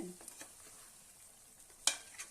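Native country chicken curry being stirred in a pan, quiet soft scraping and a faint simmering hiss with one sharper spoon clink near the end, close but low in level.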